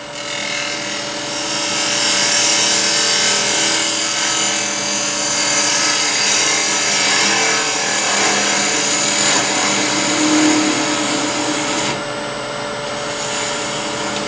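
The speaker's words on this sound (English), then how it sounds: "starting the tool in at 90 degrees and just running it across" A woodturning tool cuts across the end of a spinning wooden ring box blank on a lathe, a steady, loud broadband hiss and whine with a constant motor hum that drops off slightly near the end.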